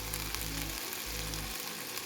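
Spiced chicken broth for ayam tangkap cooks down and thickens in a pan, giving off a steady, close sizzle and crackle, with a low hum pulsing underneath.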